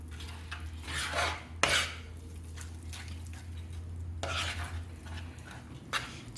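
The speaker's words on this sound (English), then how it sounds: "changing spoons back to a normal spoon, a ladle, and sort of mixing everything in" Ladle stirring besan halwa in a pan, with soft repeated scraping strokes and occasional clinks against the metal, fairly quiet and close over a low steady hum.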